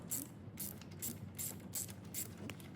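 A 9/16 socket ratchet removes spark plugs on a 2010 Mercedes, clicking in about five quick, evenly spaced bursts of sharp pawl ratcheting, close and fairly quiet, with no speech.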